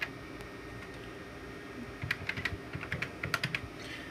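Keys being pressed on an NEC business desk phone to dial a cell number, a quick series of sharp plastic clicks in the second half over a low background hum, close and without talk.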